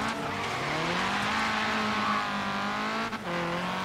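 An Ariel Atom in the racing game Forza Horizon 3 roars with a loud, continuous engine note and screeching tire skid, briefly dipping before the engine picks back up.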